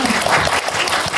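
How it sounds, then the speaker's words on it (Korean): A film festival audience at a Korean short-film Q&A in Jeonju claps for the music director, dense and steady applause filling a short, loud burst. "되게 재밌는 음악을 넣어주신 음악 감독님께도 박수 한번 부탁드려요"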